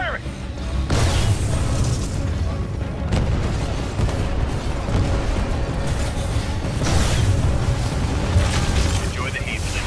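A missile is launched and explodes in the Titanfall 2 video game: a dense, sustained roar of blasts and rumbling booms fills the whole stretch with no pauses and no voices.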